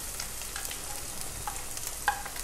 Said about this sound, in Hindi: देखिए हमारा पनीर सिकता जा रहा है।